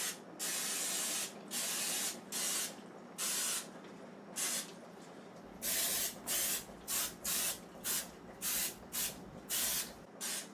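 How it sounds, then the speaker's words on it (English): Floured cooking spray hisses from an aerosol can into a loaf pan in a series of about fifteen short, loud, close bursts separated by brief pauses, with no talking. "So I need to spray a loaf pan with floured cooking spray."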